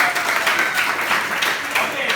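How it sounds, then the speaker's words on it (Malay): Classroom of pupils clapping together in a dense, continuous patter for a couple of seconds, with voices mixed into the noise. "Tepuk tangan untuk semua."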